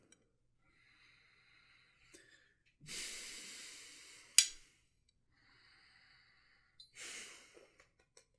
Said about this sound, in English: before I go in for a bite, I'm going to give the old sniffer